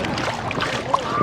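A boat moving on lake water, giving a steady close wash of splashing and rushing water with a faint hollow rumble, continuous and unbroken.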